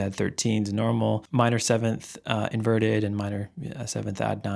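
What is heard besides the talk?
No distinct noise like a dog, phone or traffic.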